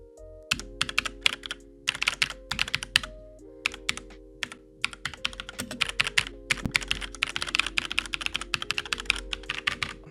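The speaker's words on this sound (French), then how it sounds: "Vous attendez qu'on écoute ensemble le bruit du clavier" Rapid typing on an AUKEY KM-G12 mechanical keyboard with red switches, a dense stream of close, crisp keystrokes with irregular rhythm and no voices.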